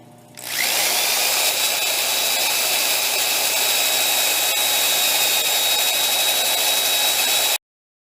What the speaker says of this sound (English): I'm using my extension with the power sander on it